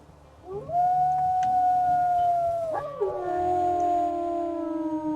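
A single wolf in the WolfQuest game gives a long, sustained howl that holds steady and then drops in pitch into a lower trailing note, close and clear against a faint background.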